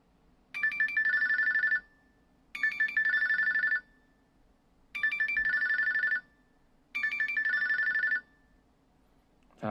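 A Samsung Galaxy Watch Ultra notification alert rings in four evenly spaced bursts of bright, ringtone-like electronic tones, each lasting about a second and a half, with silence in between.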